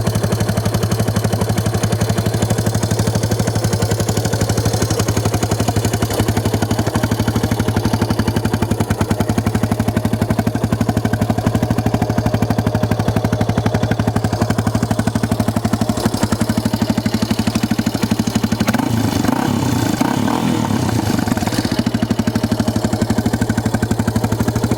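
Yamaha 350 Warrior ATV engine runs close and loud for the whole stretch, a steady low mechanical drone with rapid clattering pulses and a brief rise in revs near the end.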